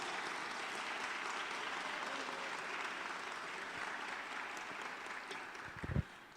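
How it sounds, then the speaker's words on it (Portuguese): A church congregation applauds in a sustained, even wash of clapping heard from within the room, ending with a few louder claps close by near the end. "Vamos aplaudir o Senhor,"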